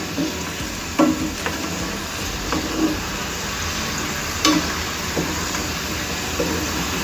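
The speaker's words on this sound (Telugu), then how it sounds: "ఇలా గోల్డెన్ బ్రౌన్ కలర్ వచ్చే వరకు వేయించుకోవాలి మెల్లిగా." Palathalikalu, small rice-flour dumplings, slowly deep-frying in hot oil until golden brown, a steady close sizzle and crackle with a few soft clinks and scrapes of a spoon stirring through the pan.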